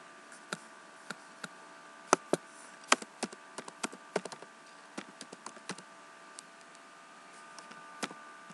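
Keys on a computer keyboard clack in irregular bursts of crisp taps, close and fairly quiet, with short pauses between runs and no voices.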